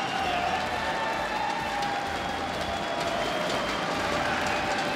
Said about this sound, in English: The home crowd is loving you.